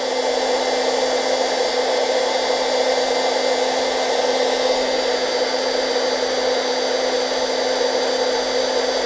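Cordless heat gun blowing hot air into a plastic bottle: a loud, steady whooshing blast with a constant motor whine, close by and uninterrupted, no voices.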